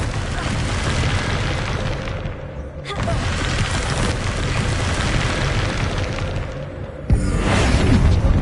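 A Bombarda spell blast in Hogwarts Legacy, a loud booming explosion with a sustained rumbling roar, a sharp burst near three seconds and another louder hit near the end.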